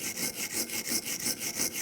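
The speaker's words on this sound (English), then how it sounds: "I'm just going to use a wire brush in this area right here, just try to get any of the rust or corrosion off" A wire brush scrubs rust off a BMW brake caliper bracket on a 2001-2006 325Xi in quick, even back-and-forth strokes, close and harsh, with about eight rasping passes and no voices.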